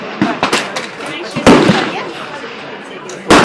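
AR-15 rifle shots ring out as a few sharp, loud cracks spaced unevenly over a few seconds, each with a short decay, with people talking between them.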